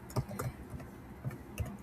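Soft keystrokes on a computer keyboard while a student ID and name are entered into an application, a few quiet clustered taps spread across the moment, close but faint.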